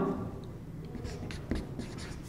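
A line being written on a board during a chemistry lesson: a few soft, scratchy strokes at close range against a quiet room.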